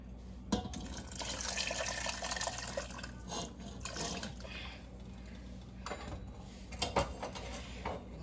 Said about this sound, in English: we're gonna basically keep going in with this water